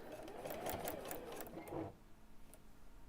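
A sewing machine stitches straight across the corner of a fabric bag in a quick, rapid burst of needle strokes, close and fairly quiet, then stops abruptly, leaving a soft background hum.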